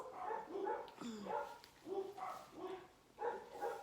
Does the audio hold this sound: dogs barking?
yes